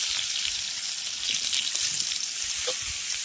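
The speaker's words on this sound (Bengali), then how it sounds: "কড়াইয়ের মধ্যে দিয়ে দিচ্ছি সর্ষের তেল তেল গরম হয়ে গেছে এবার তেলের মধ্যে দিয়ে দিচ্ছি পাঁচ ফোড়ন আর কাঁচা লঙ্কা" Mustard oil sizzles steadily in a hot wok with five-spice seeds, green chilies and dried mango pieces, a continuous bright frying hiss with small pops, close and alone without talk.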